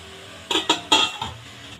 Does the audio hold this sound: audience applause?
no